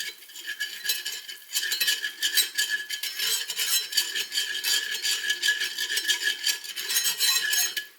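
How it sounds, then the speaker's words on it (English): Whisk scraping and rattling steadily through flour and sausage drippings in a pan as gravy thickens, a continuous close metallic stirring with no talking. "So you just want to whisk that around."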